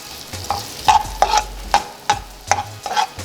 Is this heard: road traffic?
no